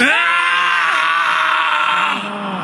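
A group of people screams together on cue, a sustained loud collective yell lasting a couple of seconds and easing off slightly near the end.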